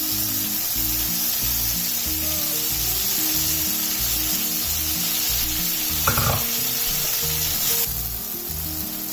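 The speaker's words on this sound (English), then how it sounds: "So we're going to fry the methi leaves for some time" Methi leaves frying in a pan, a loud, steady sizzle that continues throughout, with a short clatter of a utensil near the end and no speech.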